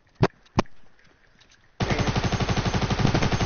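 SMG gunfire in a Fortnite-style battle royale game: two sharp isolated shots, then a sustained rapid automatic burst of evenly spaced rounds, loud and close, with no talking.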